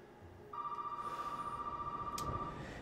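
A telephone rings inside the Resident Evil 7 game, a single sustained electronic ring with a pulsing warble starting after a short quiet lead-in, faint and alone.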